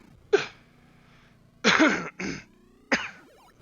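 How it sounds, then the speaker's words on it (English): A man clears his throat in several short, harsh bursts, one alone and then three more in quick succession, close up with quiet between them. "Sorry, clear my throat there."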